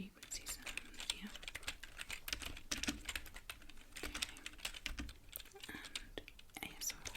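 Soft, rapid typing on a computer keyboard in a quiet ASMR sleep setting, close and continuous, with irregular clusters of key clicks and faint whispering underneath.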